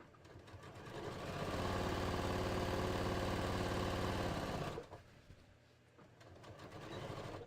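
A sewing machine stitches a bodice seam in a steady, fast run for several seconds, stops briefly, then starts up again more quietly.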